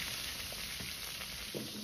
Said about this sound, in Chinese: 下锅后先静置5秒钟左右，让鱼皮能够很好的定型，再晃动锅底让其受热均匀